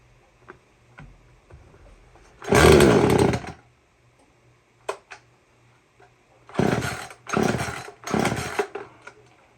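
A brand-new 2010 Poulan Pro chainsaw, just fitted with new fuel lines, fires in loud bursts: one long rev early on, a few faint pops, then three strong revving bursts close together near the end, with no talk.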